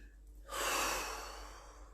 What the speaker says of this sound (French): Et respirez quand vous tapotez.